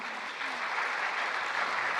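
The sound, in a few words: audience applause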